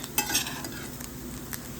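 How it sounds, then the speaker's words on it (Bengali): Potatoes fry in a pan, giving a steady soft sizzle with a few scraping stirs of a utensil against the pan, heard close and alone with no talking. "এই যে আমার এখানে আলু ভাজা চলছে প্রায় হয়ে এসছে"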